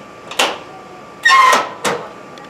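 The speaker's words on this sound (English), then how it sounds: "This is how you can make a mistake closing the door." A winery door being closed the wrong way while preparing for a wine festival, heard as three separate knocks and bumps, with a longer scraping clatter in the middle. The sounds are fairly close and there is no talking.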